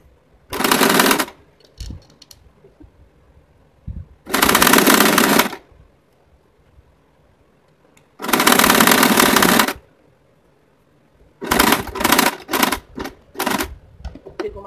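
A sewing machine stitches a fabric bag with its lining in four loud, rapid mechanical bursts, each lasting about a second, with quiet pauses in between and a run of shorter stuttering bursts at the end.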